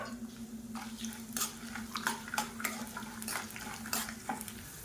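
Dried red chillies, chana dal and peanuts frying in a pan with curry leaves, giving a steady low sizzle broken by repeated scraping and stirring clatters close by, with no talk.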